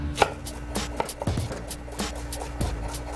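A knife chopping root vegetables such as carrots and parsnips for a Czechoslovakian dish: irregular, moderately spaced thuds on a cutting board over a low steady hum, close and fairly quiet.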